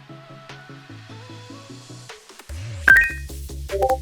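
Phone notification for a cyber capture from sneaker-botting software, a ringtone-like chime matching a banking app alert, preceded by a stepping synthetic melody and then layered with bright beeps over a steady low hum, fairly loud with no talk.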